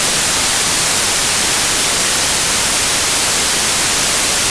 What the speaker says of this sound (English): White noise is a random collection of frequencies. It sounds hissy because pitch is exponential.